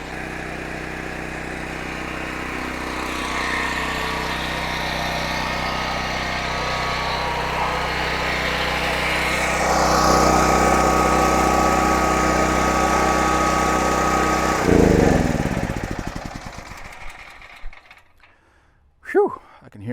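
A Pulsar G12KBN dual fuel 12000 watt generator drones loudly and steadily at close range, its engine grinding on for about fifteen seconds before it shuts down and winds to quiet, with a couple of faint knocks after.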